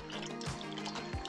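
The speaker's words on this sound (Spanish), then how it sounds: "Vamos a incorporarle agua para que se vayan remojando" Water poured onto chopped fruit, including apple, to soak for traditional Mexican ponche: a continuous splashing, gurgling pour close by, with a couple of deeper glugs, and no talk.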